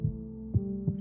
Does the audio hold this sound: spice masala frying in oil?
no